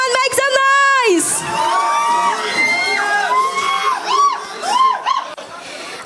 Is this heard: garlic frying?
no